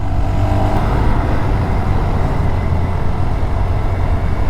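Motorcycle engine drones steadily and loudly throughout a ride, a continuous low rumble with road and wind noise and no clear gear changes or voices.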